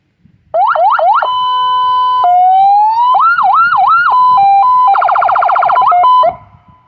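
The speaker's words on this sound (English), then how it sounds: "that sounds like, I don't know, a police siren from the UK or something" A loud, close electronic siren from the exterior PA speaker of a 2007 Ford Crown Victoria Police Interceptor cycling through several patterns: rising wails, a steady tone, rapid warbles and a fast yelp, then cutting off.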